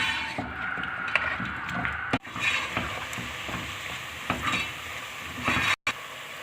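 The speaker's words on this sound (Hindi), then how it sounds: "देगची में मैंने ऑयल ले लिया और इसमें अब मैंने ये प्याज डाल दी है" Onions frying in oil in a degchi, headed for a mutton masala gravy: a steady close sizzle with scattered scraping and stirring knocks, briefly cutting out twice, no talking.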